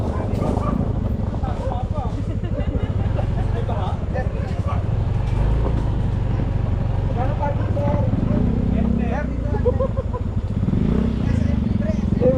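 A motorcycle engine runs steadily at close range, a low continuous rumble with faint revs, while people talk loudly over it throughout.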